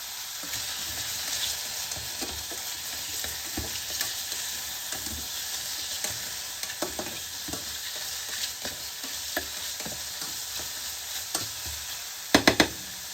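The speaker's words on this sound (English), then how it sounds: "Then add the chopped onion and stir and cook for a further 3 minutes." Chopped onion fries in a splash of oil in a pan, a continuous soft sizzle with scattered crackles and a few scraping stirs, including a sharp clatter near the end; close and moderately quiet, with no voices.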